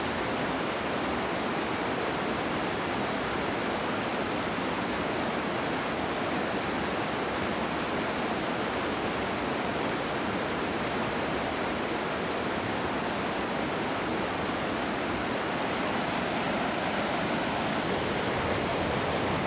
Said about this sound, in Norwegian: Fy faen, det begynte å plaske